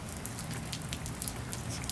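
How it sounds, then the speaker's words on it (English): Rain falling outside at night, a soft continuous patter with scattered sharper drops striking nearby surfaces, fairly quiet and steady with no voices. "It's raining."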